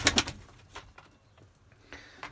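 Pigeons in a loft make brief cooing and fluttering sounds at close range, with a few soft knocks and rustles between the calls.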